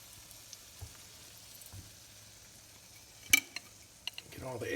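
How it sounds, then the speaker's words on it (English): Eggs and potatoes cook in butter over low heat, with a faint, quiet sizzle and a few sharp utensil clinks and scrapes from stirring, growing slightly louder at the end. "you just want to keep stirring it around and sauteing it with your potatoes until it is all cooked"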